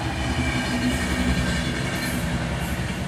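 A railway maintenance vehicle runs along the track with a continuous low rumbling drone and rolling rail noise, steady and fairly loud throughout.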